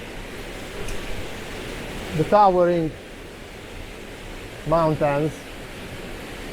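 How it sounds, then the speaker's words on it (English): A small waterfall on the River Coe in Glencoe, Scotland, making a steady, even rush of falling water throughout, while someone briefly talks over it. "this little waterfall behind me"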